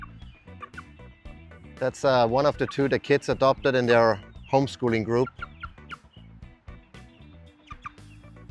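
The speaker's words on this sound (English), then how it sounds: "This is actually a rooster, unfortunately, or fortunately," Chickens clucking in a homestead chicken tractor, among them a young rooster, with loud, close bursts of clucking and squawking mixed with someone talking over them.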